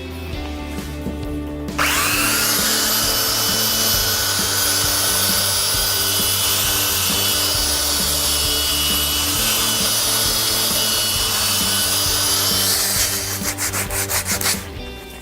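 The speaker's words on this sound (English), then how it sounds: "The best way is by using an electric sander." An electric sander smooths rough, splintered edges of pallet timber, a loud continuous buzzing whine with a deep rhythmic rumble underneath, running steadily for about eleven seconds before cutting off.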